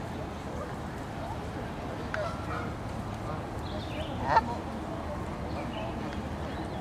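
A few faint, distant honks from a large flock of Canada geese at a park colony, scattered over a steady outdoor background.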